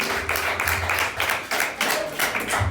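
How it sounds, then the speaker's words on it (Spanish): Congregation clapping together in applause at a Spanish-language church worship service, a dense steady patter of many hands with small surges in rhythm, fairly close and continuous throughout. "un aplauso al Espíritu Santo"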